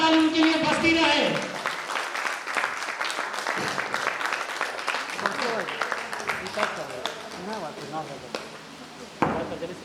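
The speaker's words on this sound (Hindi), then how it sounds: "एक बार जोरदार ताली उनके लिए बजती रहे।" An indoor audience at a direct-selling training event gives a speaker a long round of applause as he comes on stage, dense clapping for several seconds with a voice over the sound system.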